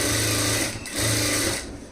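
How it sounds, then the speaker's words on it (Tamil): Sewing machine stitching lining cloth to the main fabric of a stone-model lined blouse, a loud steady motor whir with a fast needle chatter running throughout, dipping briefly midway before resuming. "இப்போ நம்ம உள்பக்கம் திருப்பிட்டு லைனிங் கிளாத்தையும் மெயின் கிளாத்தையும் ஜாயின் வந்து தையல் பண்ணலாம்."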